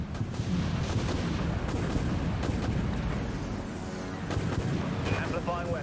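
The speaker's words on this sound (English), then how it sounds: "Launching torpedoes." Torpedo launches in a naval combat video game sound as a dense, continuous barrage of booming, gunfire-like blasts, loud and near, with a faint voice underneath.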